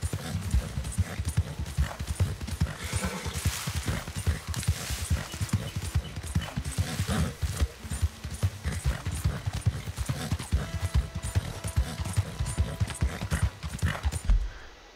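Steady clip-clop of horse hooves as a rider travels to a mission location in Red Dead Redemption 2, continuous and fairly loud, with faint game ambience beneath and a brief louder thump near the end.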